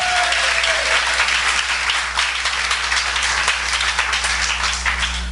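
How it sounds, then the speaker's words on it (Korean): Steady, sustained applause from a large church congregation during a worship service, dense clapping filling the room without pause. "예수님께 영광의 박수 올려드리겠습니다."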